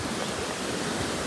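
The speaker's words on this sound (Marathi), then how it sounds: "हा धबधब्याचं पाणी आहे" Waterfall swollen and muddy after rain, roaring as a steady, dense wash of broadband noise at moderate level, with no voices over it.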